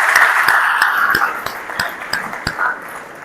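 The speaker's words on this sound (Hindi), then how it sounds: "एक बार प्लीज जोरदार तालियां अपने मैनेजमेंट के लिए" Audience applause for a school's management at a road safety talk, a dense sustained patter of many hands clapping with a few sharper individual claps standing out, steady and fairly loud throughout.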